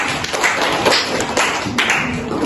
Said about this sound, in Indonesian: Ya, tepuk tangan dulu mulai bersama.